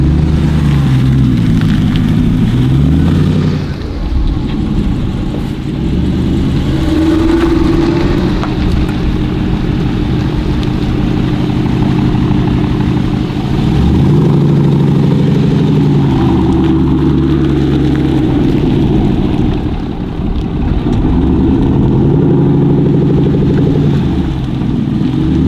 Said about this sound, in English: So you're gonna see how the straight pipe sounds.